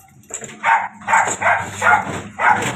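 A dog barks in a series of about five sharp, close barks in quick succession while workers handle heavy metal window grills, with faint background noise between barks.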